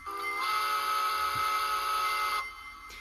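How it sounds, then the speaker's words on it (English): A steam whistle from the QSI DCC sound decoder in a Gem brass model Pennsylvania PRR N1s 2-10-2 locomotive sounds one sustained, steady blast of about two seconds, close and fairly loud through a small speaker, then cuts off. "and then whistle."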